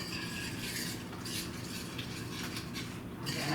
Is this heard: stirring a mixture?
yes